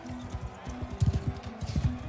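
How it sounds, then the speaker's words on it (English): Horse hooves clip-clop in quick irregular bursts in the medieval combat game Mount and Blade II, close and fairly loud with a muffled thudding rhythm over faint game ambience. "I'll get on the horse now."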